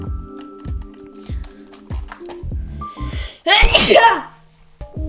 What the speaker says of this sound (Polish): Kichnęło mi się mocno.